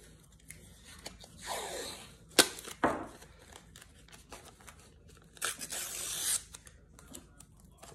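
Small strips of tape torn off while taping a painting, a few sharp ripping and crinkling bursts close up, separated by quiet pauses with soft handling noises.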